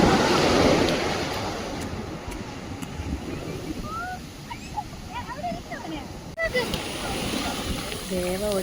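Sea waves surging and washing ashore at Veli beach, a steady broad roar with wind buffeting, while birdlike chirps and a voice come and go over the surf.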